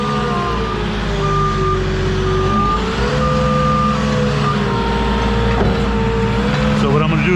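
A forklift engine throttles up while lifting a load during a driveway delivery, its close steady drone rising and falling in pitch, with occasional faint beeps in the background.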